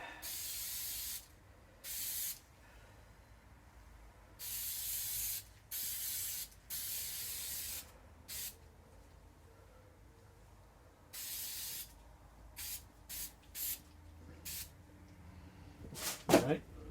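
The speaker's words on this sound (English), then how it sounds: "I'm going to spray it off camera" Repeated bursts of spray adhesive hissing from an aerosol can, some brief and some lasting over a second, separated by short pauses, with a clatter near the end.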